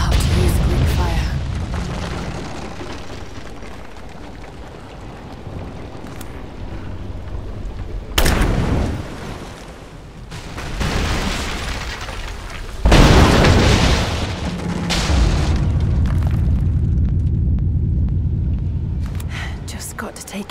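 Greek fire detonations in Rise of the Tomb Raider hit as heavy booming blasts at intervals over a rumbling game soundscape, each burst loud and broadband, with low whispered game voices between them.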